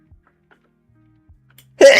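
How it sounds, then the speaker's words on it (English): A single loud, sharp sneeze bursts out near the end after near silence. "I had to sneeze."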